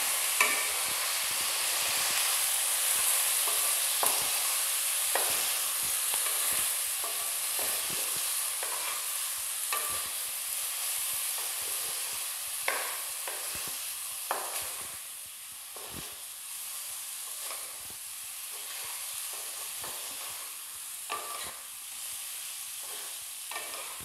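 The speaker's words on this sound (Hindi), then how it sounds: "मिक्स कर दूँगी।" Balor bean curry gets stirred in a frying pan as a spoon scrapes the pan in repeated clicks over a continuous soft sizzle, steady and close, with no one talking.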